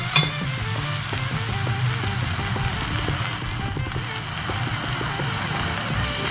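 Onion, green chili and curry leaves fry in a hot pan, a loud continuous sizzle with steady crackling and stirring, no pauses from start to finish.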